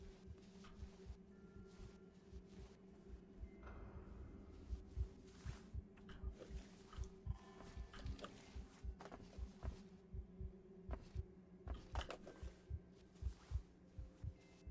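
Rapid thumping heartbeat in the horror game Among The Sleep, regular low pulses growing louder and more distinct over a steady hum, with scattered soft noises on top.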